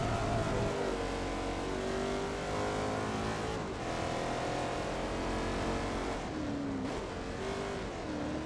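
Race car engine in Forza Motorsport 2 held at steady high revs with shifting pitch while sliding sideways in a drift, loud and continuous throughout, with brief dips where the car shifts or changes throttle.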